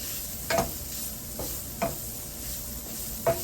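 Seasoned ground beef sizzles quietly in a pan while a utensil scrapes through it in three or four distinct strokes.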